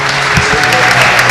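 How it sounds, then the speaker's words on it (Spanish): A church congregation claps together in dense, loud, steady applause for a short burst, with a voice faintly mixed in. "Dale un aplauso a Cristo"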